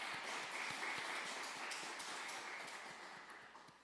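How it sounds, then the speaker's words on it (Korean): A church congregation claps together during a Wednesday worship service at Bucheon Jisan Church, a dense, steady wash of applause that fills the hall and slowly thins toward the end. "박수 한번 하겠습니다."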